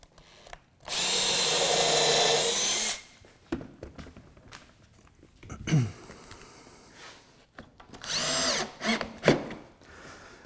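Power drill driving screws into a wooden slab coffee table: a loud sustained whir for about two seconds, then handling knocks and rustles, followed by shorter bursts of drilling, close up.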